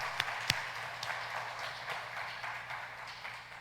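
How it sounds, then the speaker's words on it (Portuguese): A church congregation at a Sunday service in Monte Sião, Brazil, claps steadily in praise, a moderate wash of applause with a couple of sharper claps near the start. "Vamos aplaudir o Senhor é digno de toda honra, toda glória."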